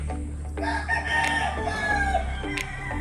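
A young stag gamecock with yellow legs crows on a farm, a single drawn-out crow close by, with other fowl clucking in the background.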